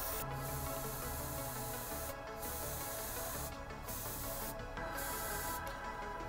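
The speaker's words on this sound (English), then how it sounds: "we're going to spray white from the top and just get a nice gradient going across his hair and his face" Airbrush spraying white paint onto a Mephiston miniature: four or five short hissing bursts of spray, each about a quarter second, spaced over a steady low hum of the compressor.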